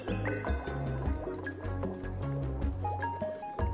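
Water leaking and dripping inside the colony-building game Oxygen Not Included, soft liquid drips and trickles running under steady, tonal background game music with no speech.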